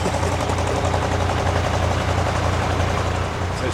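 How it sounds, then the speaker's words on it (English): A narrowboat engine passing on a canal in the morning, a steady low diesel throb that stays loud and close throughout. "First boat of the day."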